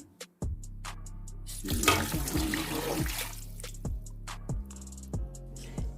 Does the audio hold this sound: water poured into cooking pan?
yes